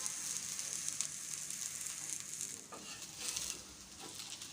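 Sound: mutton shami kababs shallow frying in oil on a tawa

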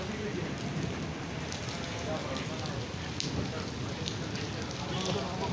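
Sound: heavy rain falling in Dubai

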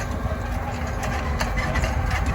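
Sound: tractor engine idling

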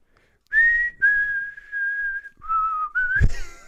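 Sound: whistling in the chorus of a song

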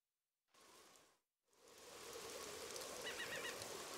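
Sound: rain on a beach in the video game Mario & Rabbids Sparks of Hope

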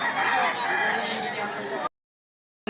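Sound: rooster crowing at chicken sale

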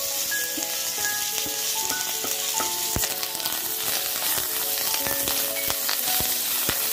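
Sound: coriander and curry leaves frying for onion sambar

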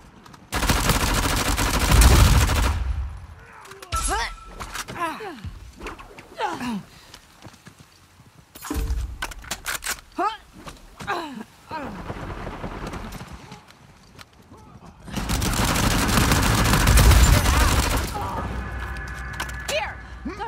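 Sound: gunfire and machine guns in the video game Uncharted 4

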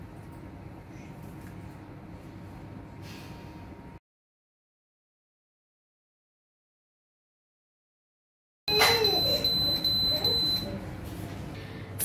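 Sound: steam sterilizer beeping when done

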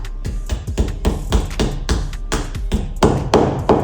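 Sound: hammering a plastic wall plug into a wall

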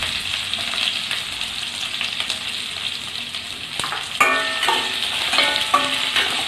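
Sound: onions frying in a pan

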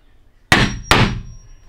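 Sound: new hammer ringing when struck

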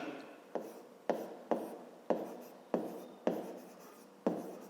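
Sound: writing by hand during a math lesson

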